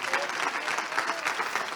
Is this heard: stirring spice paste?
no